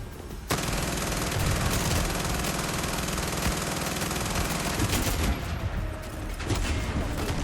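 Relentless rapid gunfire and heavy cannon blasts roar continuously in Far Cry 6, loud and close, with rattling bursts layered over booming shots throughout.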